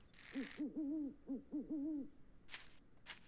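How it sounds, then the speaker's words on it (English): An owl hoots in a horror survival video game, two runs of wavering hoots in quick succession, clear and close, followed by short bursts of noise. "Or at least the sounds of an owl."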